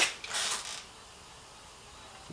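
A small wooden drawer built to hold a computer and equipment beside a mill slides open with a brief creaking rub, followed by near silence.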